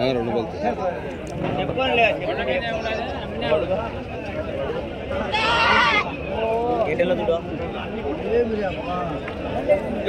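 Nellore Jodipi ram lambs bleat again and again in quavering, overlapping cries close by, while people talk over and between the calls.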